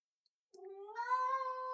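A pet cat gives one drawn-out, rising meow close to the microphone in an otherwise quiet indoor room, with no talking.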